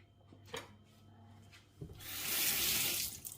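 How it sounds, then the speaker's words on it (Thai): Tap water runs into a kitchen sink while a mother washes her hands during smoothie making at home; a steady rushing hiss swells in after a few faint knocks and clatters, fairly close and without talk. "เดี๋ยวคุณแม่ล้างมือก่อนแป๊บนึง"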